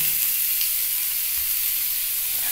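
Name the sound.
cabbage frying and being stirred in oil for veg momo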